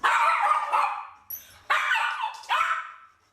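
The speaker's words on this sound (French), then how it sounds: "les aboiements répétés de Nounours dérangent aussi les voisins" A dog barks repeatedly indoors in an apartment building, several sharp loud barks in quick succession with brief pauses, close to the listener.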